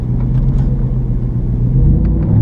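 A Mustang or Civic with its mufflers removed idles with a loud, deep, throaty rumble close by, holding steady throughout.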